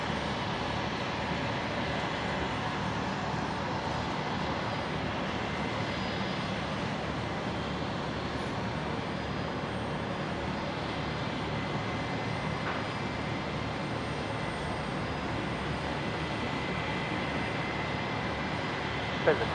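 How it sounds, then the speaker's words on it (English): A Qantas airliner arriving from Melbourne at Brisbane Airport gives a steady, moderately faint engine roar that holds evenly, with speech partly over it. "Next arrival, Qantas 620 coming in from Melbourne."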